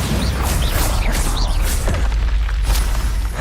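A Bombarda spell explosion in a video game, a loud booming burst with a crashing, rumbling roar and whooshing debris that fills the whole stretch, close and dense.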